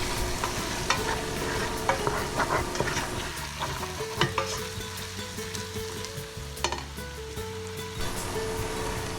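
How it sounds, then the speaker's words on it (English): Oil being stirred in a pot for a beef pot roast, a steady sizzle and frying hiss with scraping stirs, continuous and close, with no talk. "Just a little more oil and then stir that up."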